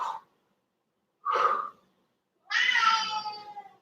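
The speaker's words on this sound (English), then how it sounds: "My cat is still not happy." A house cat meows three times during a yoga workout, spaced apart: a short call, then a longer one, then a drawn-out, complaining meow. The calls are fairly close and clear, with no talk over them.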